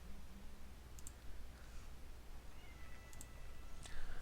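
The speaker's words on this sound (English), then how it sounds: "I got some meowing cats." Cats meow faintly a few times against a steady background hum, with soft clicks and little else nearby.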